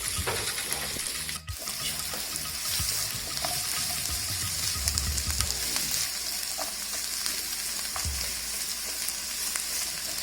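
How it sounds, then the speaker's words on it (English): Finely chopped onion sizzles steadily in a hot pan while cooking palak paneer, with a constant crackling fry, a brief sharp clatter near the start and occasional stirring scrapes. "Allow the onion to brown and caramelize."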